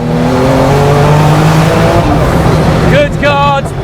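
Gunther Werks Porsche 911 Turbo accelerating hard: a loud, close engine roar climbing through revs with rising tonal whine, then a sharp upshift-like step near the end, while a voice shouts over it.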